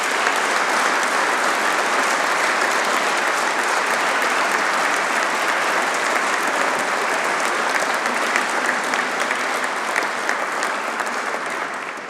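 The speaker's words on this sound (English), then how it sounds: "Let's have another round of applause for him." An audience at the Corps of Royal Engineers Engineering Excellence Awards applauds in a long, even, sustained wash of clapping from many hands, loud and unbroken throughout.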